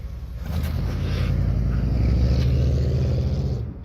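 A 1958 Chevrolet Del Ray Sedan Delivery two-door runs with a steady low engine rumble, close and moderately loud, swelling slightly mid-clip before fading at the end, with no voices.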